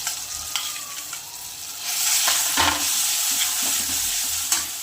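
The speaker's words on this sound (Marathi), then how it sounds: "छानशी डाळ अशी खरपूस भाजली की आचारचं जे आपण टमाट्याचं पेस्ट बनवलेली ती टाकून द्यायची" Tomato paste is tipped into dal roasted crisp in hot oil for a South Indian tomato pickle, setting off a loud, steady sizzle with scraping stirring that swells and carries on without speech.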